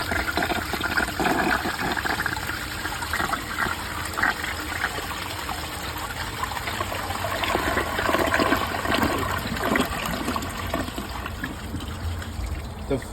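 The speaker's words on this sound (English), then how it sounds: "so let's give the toilet a flush." A 1968 American Standard Cadet toilet with an overfilling tank flushes in a strong continuous rush of gushing water that trickles and refills, close and fairly loud, with someone speaking over it.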